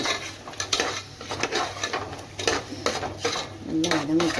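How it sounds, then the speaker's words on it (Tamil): Onions and tomatoes being sautéed with salt in a pan for a mint rice dish: a spoon scrapes and clatters against the pan in irregular strokes, with a soft sizzle underneath. "இப்போ நல்லா வதக்கணும்."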